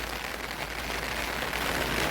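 Heavy rain pours down in a continuous, even rushing hiss that fills the air at constant loudness throughout, with no voices.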